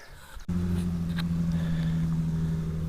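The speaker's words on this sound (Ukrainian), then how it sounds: "Поїхала, поїхав УАЗик вперед." A UAZ off-road vehicle pulling away nearby, its engine settling into a steady, loud low drone with a constant hum after an abrupt start, no voices.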